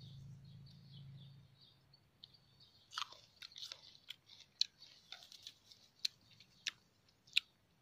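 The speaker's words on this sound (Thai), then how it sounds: "จะไปชิมลูกพรุนสีเขียวๆ" Freshly picked sour green prunes are chewed close to the listener, with a run of crisp, irregular crunches that grow sharper toward the end. Faint birdsong sounds in the background.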